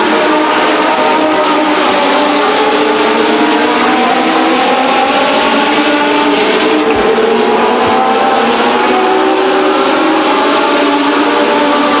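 Legends race cars roar around the oval at Stockton 99 Speedway, a loud, continuous engine drone with pitch rising and falling as cars pass and shift, several engines layered close by, no voices.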